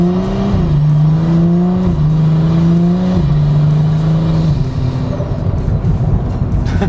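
A BMW F30 accelerates hard in manual mode, the engine note climbing steadily and dropping at each paddle shift across several gear changes, loud and close, with no speech.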